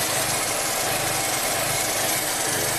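A Chevy Cruze turbo engine idles roughly with a lean-running fault, a loud, close, continuous rumble with an uneven pulsing throb repeating every half second or so.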